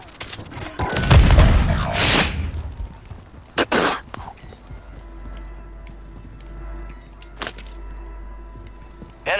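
A Warzone Plunder match in which a booming grenade blast lands in the opening seconds, followed by sharp bursts of gunfire and distant battlefield rumble.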